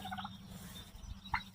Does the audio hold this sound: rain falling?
no